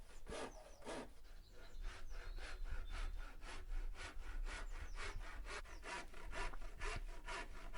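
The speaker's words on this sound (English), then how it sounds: "So here I just took a handsaw and cut out the shape." A handsaw cuts through a hardboard sheet in steady back-and-forth strokes, each rasping pass distinct and close, with no talking over it.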